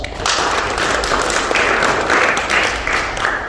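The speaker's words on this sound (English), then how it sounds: "Give a big round of applause." A seminar audience claps steadily in a big round of applause, a dense, sustained wash of many hands close by, with shouted voices rising over it at intervals.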